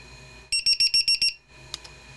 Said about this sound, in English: these are actually little buzzer units, which I'm going to plug them in. They make a loud noise.